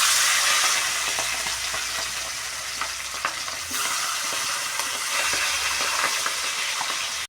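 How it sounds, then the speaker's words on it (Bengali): A rohu fish head rubbed with turmeric and salt sizzles loudly in hot oil, a steady broadband crackle with sharp pops scattered throughout, continuous and close for the whole stretch. "তেলটা আমার গরম হয়ে গিয়েছে। এখন হলুদ লবণ মাখানো মাছের মাথাটা দিয়ে দেব।"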